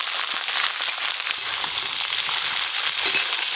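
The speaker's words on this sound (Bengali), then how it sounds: "কড়াইতে নাড়তেছিস" Capsicum, carrot and beans being stir-fried in a kadai, a steady close sizzle and crackle of frying with faint stirring, running unbroken throughout with no talk.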